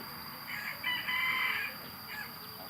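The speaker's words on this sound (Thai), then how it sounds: "ขันโอเคสุดๆเลย" An ordinary-looking rooster crows close by in one long, strained call, loud and clear with a faint tail, alone without speech.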